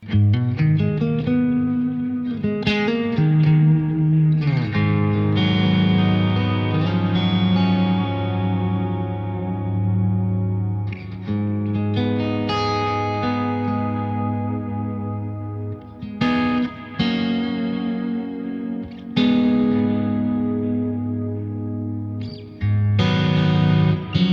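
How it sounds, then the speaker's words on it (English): A clean electric guitar rings out with lush reverb and echoing delay, chords and notes sustaining and trailing off into a spacious wash, with no talking. "Let's throw on some reverb and delay and get into the world of push clean ambiance."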